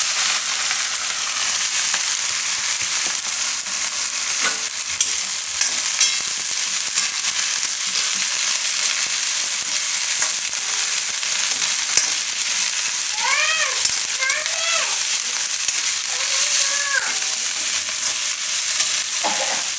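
Cabbage tossed into a hot pan of frying garlic, curry leaves and asafoetida gives a steady, close sizzle with stirring scrapes throughout, and a few faint chirping tones rise briefly in the background.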